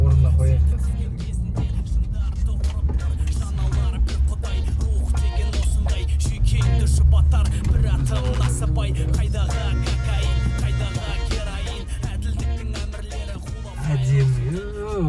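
A 1979 Rolls-Royce Silver Shadow drives along with a steady, close engine hum and road noise that continues throughout, swelling slightly near the end.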